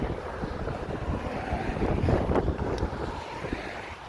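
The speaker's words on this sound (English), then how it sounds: "It's kind of windy going down that hill" Steady wind buffeting a microphone going down a hill in Cheyenne, Wyoming, a low, rumbling roar that stays loud and continuous throughout with no voices.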